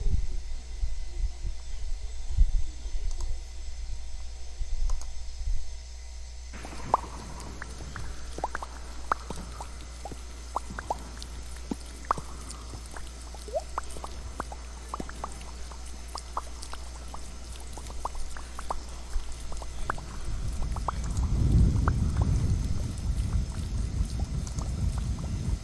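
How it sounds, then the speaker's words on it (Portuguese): Recorded rainwater falling and trickling, a steady wash of fine drips and splashes that sharpens partway through and swells louder toward the end, with no talk. "Som de água da chuva."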